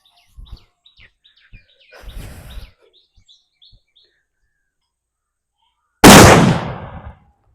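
A Valangaiman country firecracker bursting with one sharp, very loud bang that rings and decays over about a second, after scattered small pops and a brief crackle earlier.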